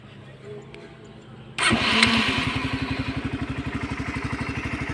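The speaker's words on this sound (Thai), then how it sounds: "เครื่องเงียบครับผม นี่สตาร์ทไปแล้วนะครับ" A Honda CBR motorcycle engine fires up after a quiet start and settles into an even, rhythmic idle with a regular pulsing beat, close and fairly smooth, following a faint lower hum before ignition.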